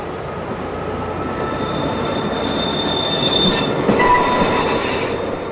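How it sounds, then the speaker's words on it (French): An SNCF 4500 diesel railcar pulls into a station platform, steel wheels squealing loudly and close over a steady rolling rumble, with faint clattering of the wheels on the rails and no speech. "un autre 4500 est dégaré et vient se mettre à quai."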